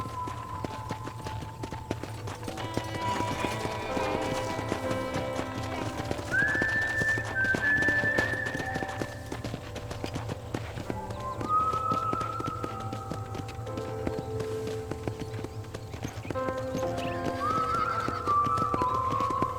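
Horse hooves clip-clopping steadily in Red Dead Redemption, a continuous rhythmic patter with game music and whistling melodies on top, no talk.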